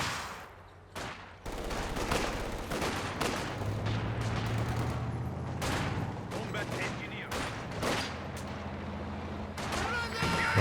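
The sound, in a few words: machine gun fire, Company of Heroes 2 video game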